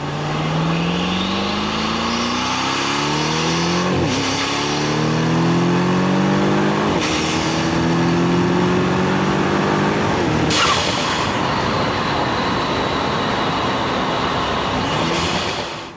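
Mercedes-AMG GT63 4Matic engine revving and accelerating through several gear changes, loud and sustained, with rising tones cut by short breaks at each shift and a sharp crackle near the end.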